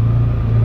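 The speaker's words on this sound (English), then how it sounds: "All right, guys, we're gonna give you a demo ride of the UForce 600" CFMoto UForce 600 UTV on a demo ride, a steady low engine drone with road rumble heard from inside the cab, constant and loud for a brief moment.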